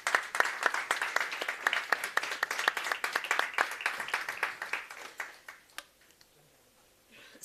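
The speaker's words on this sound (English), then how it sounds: "So let's have applause for our dragons." A conference audience at a discussion on Europe applauds a panel of speakers: dense, sustained clapping from many hands that thins out to scattered claps and then fades away.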